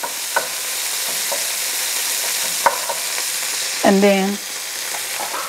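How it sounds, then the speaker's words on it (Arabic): Onions caramelizing in a frying pan for a spinach and feta tart give a constant soft sizzle, broken by a few sharp utensil taps and stirring clicks, and a brief spoken phrase near the end. "We will stir just to caramelize for a little bit."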